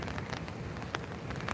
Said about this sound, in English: So it's pouring rain.